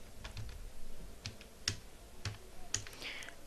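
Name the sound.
typing a project title on a computer keyboard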